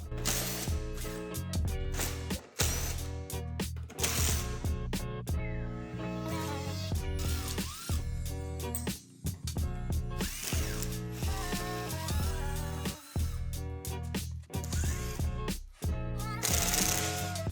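A ratchet clicks rapidly and repeatedly while 10 mm bolts and Phillips screws come out of a C6 Corvette's lower front trim. It is close and loud, in bursts separated by brief pauses.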